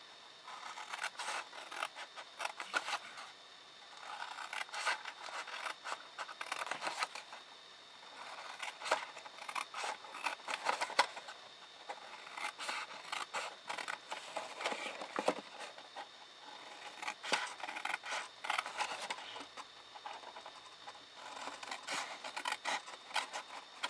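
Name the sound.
cutting up sections of a scored gift box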